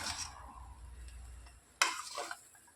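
Tomato rice being stirred in a pan over a low gas flame, with a soft scraping and faint sizzle running steadily, then a louder, closer scrape and clatter of the spoon near the end.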